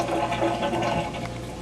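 A big pot of hot pasta water with bow tie pasta being poured out into a sink, a continuous rushing, gushing splash of water heard up close for a brief moment.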